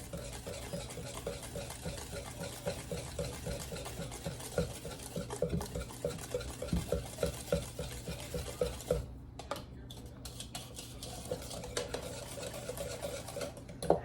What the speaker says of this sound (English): you wanna make sure you mix it until there's no more lumps in it